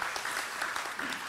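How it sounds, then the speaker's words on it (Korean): A seminar audience gives brief applause for the panel chair, a social welfare professor at Suncheon National University, a dense, moderately faint patter of many hands clapping at a distance. "예, 감사 박수 한번 부탁드리고요"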